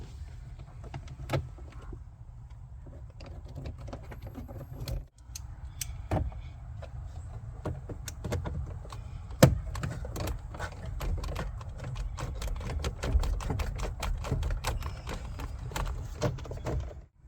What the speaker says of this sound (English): Then we can put the bolts back in on each side of the steering wheel.